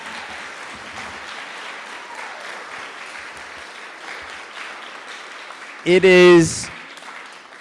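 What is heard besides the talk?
applause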